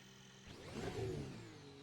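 Formula 1 car engine in the Assetto Corsa sim fires up, a rising mid-pitched crank and catch that swells to a brief roar around the middle, then settles into a steady idle.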